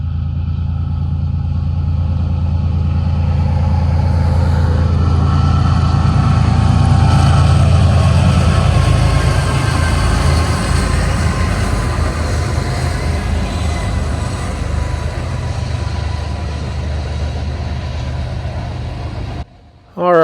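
A freight train rolls steadily over a small bridge in New Mexico, its loud, continuous rumble and clatter filling the air throughout before cutting off abruptly at the end.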